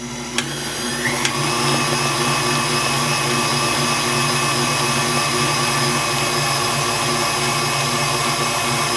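An electric mixer whips a cream filling for peanut butter filled donuts on high speed, a steady close motor whir with a faint tonal hum, running alone without pause.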